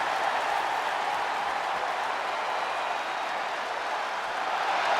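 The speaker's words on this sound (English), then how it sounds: "The sound of this crowd is deafening, and he's asking for more." A wrestling arena crowd roars steadily after a powerbomb through the barricade, a dense, continuous wash of cheering and applause holding at an even, loud level throughout.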